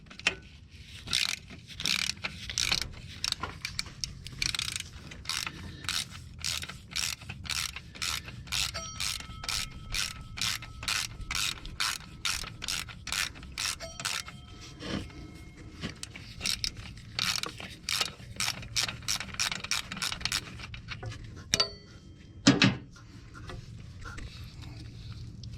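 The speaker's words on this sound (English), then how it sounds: "now we should be able to get ratchet in there." Rapid ratchet clicking in long, steady bursts with brief pauses while a bolt is worked on the clutch fan hub of a 2007 Freightliner truck's Series 60 Detroit diesel engine; close and fairly loud, with a couple of heavier knocks near the end.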